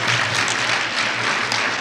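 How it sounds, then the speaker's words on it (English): An audience at a 1973 lecture gives brief, dense, steady applause that fills the room, with no voices heard. "And you can clap for him."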